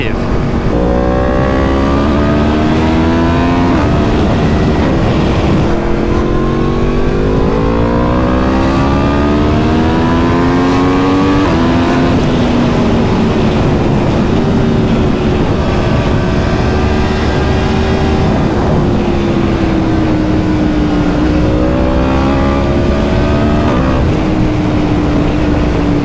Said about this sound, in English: When you open this bike up, God, does it sound good.